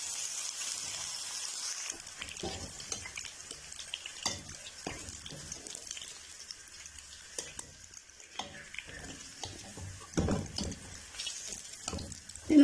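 Potato, peas and carrot fry in hot oil with cumin, a steady sizzle running throughout with scattered clinks and scrapes of a stirring spoon against the pan, close and moderately loud, no talk.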